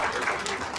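An audience at a women's award ceremony in Uttarakhand claps in a brief, dense burst of applause heard from within the hall.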